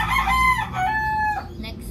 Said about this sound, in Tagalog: Ang dami namin itong manok.